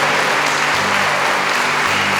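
A church congregation bursts into loud, continuous clapping, a short, full wash of applause heard alone with no voices.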